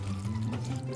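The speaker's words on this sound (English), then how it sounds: "Add some pasta water." Starchy pasta water pours from a cooking pot in a home kitchen, a steady, close liquid stream running without pause for a moment.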